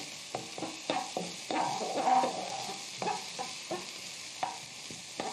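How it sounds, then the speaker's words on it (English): Chopped red sweet pepper stirred in a hot pan, with a steady sizzle of frying and repeated scraping strokes of the utensil against the pan, close and fairly loud, no voices. "look at this beautiful chopped red sweet pepper. Stir that around."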